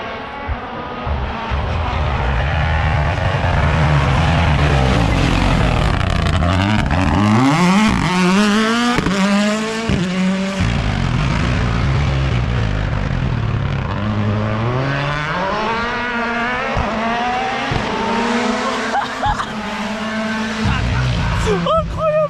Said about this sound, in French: il y a la première voiture qui arrive